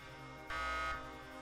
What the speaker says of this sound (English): That timer is not for stream. That was for the oven yesterday.